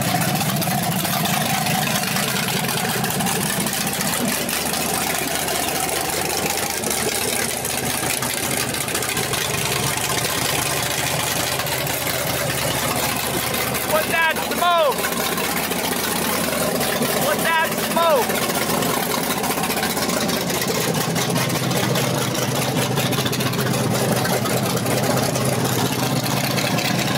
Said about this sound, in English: You ever hear of a Porsche that sound like this?